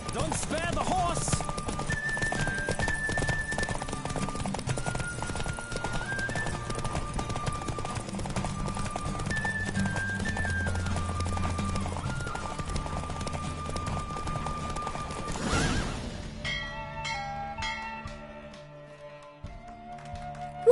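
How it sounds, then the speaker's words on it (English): Rhythmic hoofbeats of a galloping horse drum along under a synthesized game melody, then the music shifts and the hooves fade near the end. "Don't spare the horse!"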